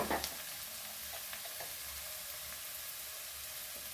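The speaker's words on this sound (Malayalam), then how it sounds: "ഇതൊന്ന് വഴലട്ടെ. സവോളയൊക്കെ ഇങ്ങനെ വഴന്നാൽ മതി." Onions sautéing in a pan for a leftover-idli dish, with chilli powder going in, giving a steady soft sizzle throughout with a few small stirring clicks near the start.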